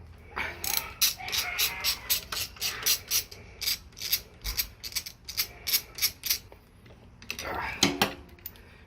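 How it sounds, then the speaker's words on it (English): A ratchet works loose the larger handlebar mounting bolts during a ProTaper handlebar upgrade. Quick bursts of sharp clicking repeat in an uneven rhythm, close and fairly loud, with short pauses between strokes. "So you got to take these larger mounting bolts out."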